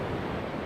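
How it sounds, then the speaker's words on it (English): Ocean waves breaking on Myrtle Beach, a steady close wash of surf noise with some wind, brief and alone without talk. "Listening to the waves."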